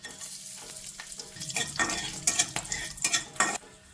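Whole spices (clove, cardamom, cinnamon, bay leaf and star anise) frying in hot oil, a close, loud sizzle broken by several sharp crackling bursts and stirring scrapes, heard without any voices.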